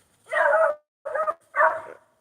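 Dogs bark three times in quick succession, close and loud, with short gaps between the barks and no talk over them.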